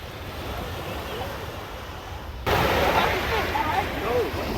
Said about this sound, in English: We back at the beach, y'all.